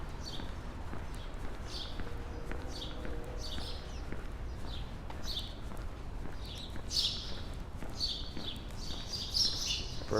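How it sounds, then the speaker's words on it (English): Birds chirp and sing in short repeated bursts near a children's zoo in Manhattan, moderately close above a steady outdoor city hum. "Bird's got a lot to say today."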